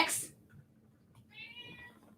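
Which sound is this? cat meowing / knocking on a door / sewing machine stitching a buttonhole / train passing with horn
cat meowing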